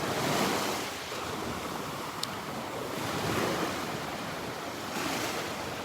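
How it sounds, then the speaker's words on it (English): Small ocean waves build and break continuously along a shoreline at the north end of a park, a steady wash of surf with swells in loudness, mixed with wind noise on the microphone and no voices. "you see these little waves building up and breaking out there"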